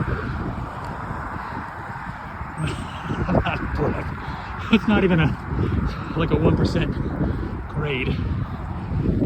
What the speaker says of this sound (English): That's windy.